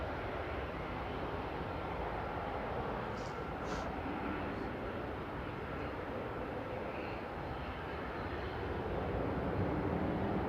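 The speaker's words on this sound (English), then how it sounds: "First noisy prop departure" A Loganair propeller plane taxis out from Manchester Airport, its engine a steady, loud, broadband drone that holds level and swells slightly toward the end, heard from a distance across the airfield.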